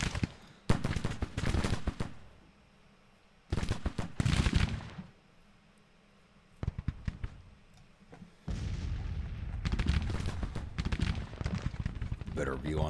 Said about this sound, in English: Hopefully I get my infantry far enough forward of the artillery where they can start firing again